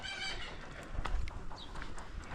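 Chickens on a rural farm clucking softly at a distance amid low outdoor background noise, a few faint bird calls scattered over a couple of seconds.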